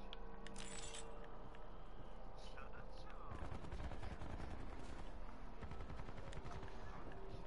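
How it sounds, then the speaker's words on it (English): Gunfire in an online multiplayer shooter game. Rapid bursts of automatic shots and scattered single cracks rattle on through the whole stretch at moderate loudness, with a player's voice talking over parts of it. "Who's shooting?"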